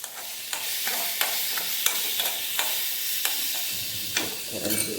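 Neem flowers sauté in sesame oil in a pan, a soft continuous sizzle broken by repeated sharp scraping stirs of a spatula, close and without talk.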